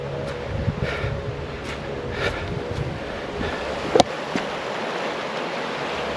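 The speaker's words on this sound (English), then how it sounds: "with the river going not too far in the distance" A river near Fish Creek in Alaska makes a constant, soft wash of flowing water that sounds moderately distant on a quiet forest hike. One sharp click breaks through it partway.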